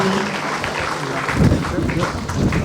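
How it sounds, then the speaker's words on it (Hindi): An audience claps loudly and steadily for a sister at a golden jubilee ceremony at a leprosy centre. The dense, continuous applause fills the whole stretch and sounds like a large crowd in a hall. "हम लोग जोरदार तालियां बजा रहे हैं सिस्टर के लिए।"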